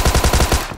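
A rapid string of about seven punchy, evenly spaced shotgun blasts in a first-person video game, loud and close, ending in a short decaying tail.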